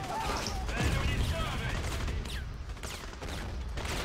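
Machine gun fire in a combat video game on the Bagram Airfield mission: a dense, continuous rattle of automatic fire and battle noise that fills the whole stretch, with faint voices mixed underneath.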